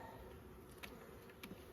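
A dense, steady hum of many honey bees inside a hive, close and continuous, with a couple of brief knocks or handling sounds.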